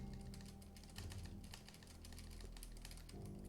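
Computer keyboard keys are slammed hard and fast during a game of Just Monika, producing a dense, loud, continuous clatter of clicks, close and alone with no talk.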